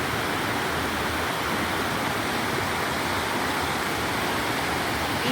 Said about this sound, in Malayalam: ഈ പുഴ താഴേക്ക് ഒഴുകി പോവുകയാണ് കേട്ടോ.